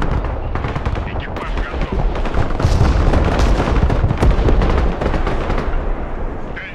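Rocket artillery firing in the war strategy game Broken Arrow, a loud dense barrage of rapid launches and bangs that rises and sustains, with speech mixed into the battle noise.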